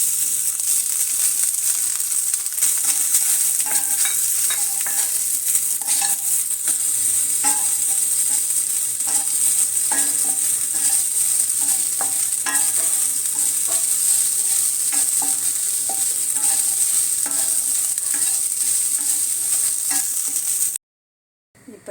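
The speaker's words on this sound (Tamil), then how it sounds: "இந்த ரவையை வறுக்கணும். இப்போ தேங்காயும் நல்லா வறுக்கிறோம்." Semolina and coconut roast in ghee in a pan for a somas filling, making a steady, dense sizzling hiss with constant scraping from stirring throughout, ending abruptly near the end.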